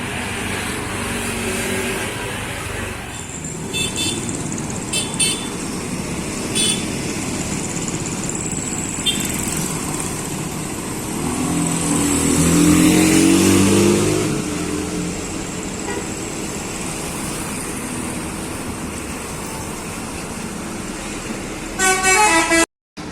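The Al-Farruq bus pulls away with a rumbling engine that revs up loudly midway, and short bursts of horn sound near the start and again at the end, in a busy roadside setting.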